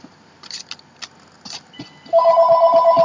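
A phone starts ringing with a steady electronic trill, loud and close, after a few light clicks and handling sounds in a crafting room; no voices.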